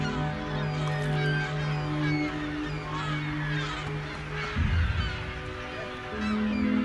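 American white pelicans at a breeding colony on a salt-lake island, a dense steady chorus of low honking and grunting calls with a louder burst midway, no voices.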